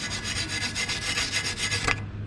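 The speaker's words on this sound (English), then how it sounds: "We can use a little file." A small metal file rasps steadily back and forth over a burr on a differential part during a diff bushing install on a JZX100 Chaser, close up and continuous, then it stops abruptly.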